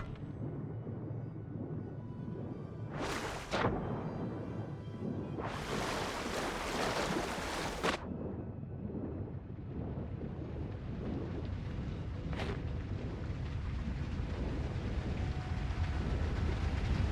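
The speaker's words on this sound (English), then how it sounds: "Oh, that's what I was hearing. Waterfall." A waterfall in the video game Avowed keeps up a steady broadband rush of falling water throughout, broken by a few brief louder bursts of in-game effects, with no talking.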